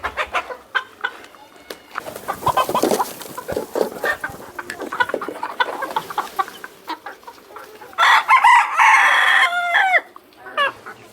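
Chickens on a poultry farm under a shed with green netting, clucking steadily with overlapping calls and a loud rooster crow near the end, close and busy.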